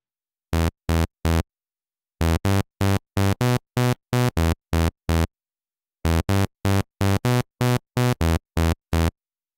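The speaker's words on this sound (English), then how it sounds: "what you're hearing now is basically just the init patch" A raw, buzzy Sylenth1 saw-wave init-patch bass plays a choppy riff of short, evenly clipped notes in repeating groups, separated by brief gaps of silence.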